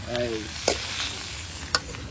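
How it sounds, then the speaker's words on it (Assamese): Pork frying in a kadai at a home kitchen sizzles steadily and close by, broken by two sharp scraping clacks as the meat is stirred. "ইয়াতে চলি আছে গাহৰি মাংস"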